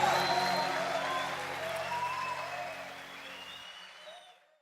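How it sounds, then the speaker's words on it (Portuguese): Congregation at a Baptist prayer meeting applauding in a church, a broad moderate wash of clapping that tapers off and fades out near the end. "aplauda o nome de Jesus"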